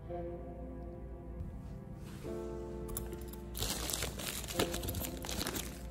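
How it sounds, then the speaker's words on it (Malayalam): Packaging for a mini wireless microphone is unboxed. It starts as quiet rustling and builds into loud, close crinkling and crunching of plastic and paper, with no talking. "നമുക്കൊന്ന് അൺബോക്സ് ചെയ്ത് നോക്കാം."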